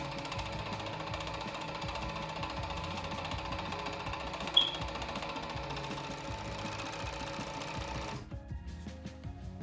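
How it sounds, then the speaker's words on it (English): Serger overlocker stitching jersey knit fabric, a fast steady mechanical chatter of needles and loopers running close for about eight seconds before stopping abruptly, followed by faint handling sounds, no talking. "So now I'm going to start serging."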